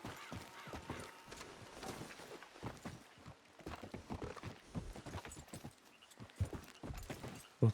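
Horses' hooves clip-clop in a video game, a brisk run of close, repeated hoof strikes with occasional heavier thuds and no talking over them.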